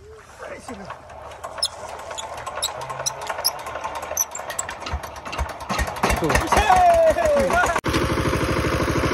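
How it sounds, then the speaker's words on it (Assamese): A tractor engine cranks and catches on a farm field, then settles into a loud, steady mid-pitched running rumble, with people talking nearby before it starts. "আজি বহুত দিন পিছত ট্ৰেক্টৰ চলাম আৰু মই ষ্টেট দিম এতিয়া"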